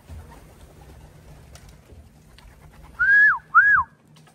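Racing pigeons at a race finish give two short, clear calls close by near the end, after a quiet stretch of low background noise.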